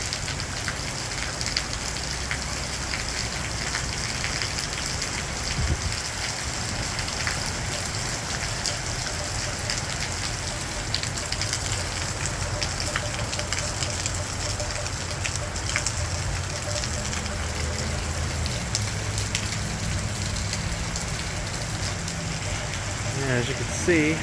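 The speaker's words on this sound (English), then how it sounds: "it is absolutely downpouring." A heavy thunderstorm downpour in Valparaiso, Indiana: dense, steady rain roars and splashes on surfaces without a break, a constant loud hiss that fills the whole stretch, with a faint low rumble beneath.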